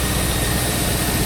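A Land Rover Defender with a GEMS V8 conversion idles smoothly and loudly up close, a dense, steady low rumble without lumps or bouncing.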